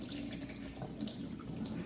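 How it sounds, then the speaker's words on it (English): Liquid and veggie chunks are poured into a kitchen strainer, giving a steady, close rushing splash of water with no talk. "I like to take this and pour it in my strainer."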